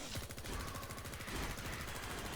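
Rapid, steady automatic gunfire from a weapon in the video game Doom Project Brutality, a continuous dense rattle of evenly spaced shots that carries on throughout.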